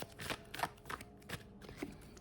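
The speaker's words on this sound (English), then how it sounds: "as I shuffle these cards" Oracle cards being shuffled by hand during a love and romance tarot-style reading, giving soft papery riffles and slaps in several short bursts, close and fairly quiet with no talking.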